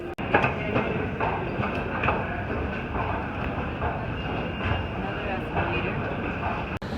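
Continuous rumble and rattle of a moving New York City subway train, with rhythmic clacking and a voice talking over the steady roar.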